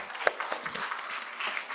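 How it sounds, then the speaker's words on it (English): An audience at a school debate, held during an international conference on ECOWAS at 50, gives a short burst of applause. The clapping is dense and fairly close, with a few louder claps standing out. "A round of applause for him, please."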